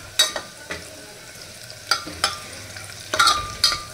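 Curry leaves added to a garlic and cumin tempering for matki dal, with a soft sizzle beneath several sharp spoon scrapes and clinks against the pan, close up and without speech.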